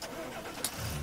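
A tractor engine in the farming game Landwirtschafts-Simulator 15 starts up, going from a thin mechanical rattle to a low, growing rumble near the end of the brief moment.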